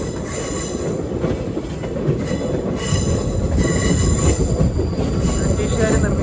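A passenger express train rumbles steadily across the old British-built 13-arch railway bridge near Thenmala, loud and close with a continuous roar, metallic wheel squeal and faint rhythmic clatter.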